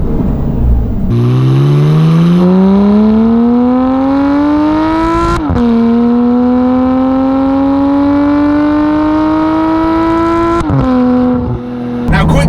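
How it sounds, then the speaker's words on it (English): A supercar's exhaust roars loudly under hard acceleration through the Hatfield Tunnel, engine pitch climbing steadily through three gear changes with brief dips between shifts, heard from inside the car. "really going to try and put my foot down and get a taste of what this car sounds like"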